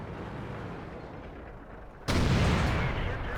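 In the World of Tanks video game, an artillery shell slams into a tank with a sudden heavy boom, cutting through a low rumbling background and leaving a loud, sustained blast roar.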